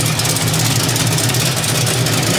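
Hot rod engine with Flotec headers, an X pipe and a Pipe Violator series exhaust idles steadily up close, a loud, even low rumble with no talk over it.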